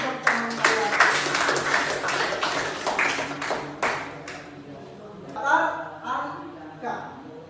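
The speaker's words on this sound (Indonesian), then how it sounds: "Beri tepuk tangan untuk teman kalian." Children in a classroom clap for a classmate, a dense burst of applause lasting about four seconds before it thins out and voices take over.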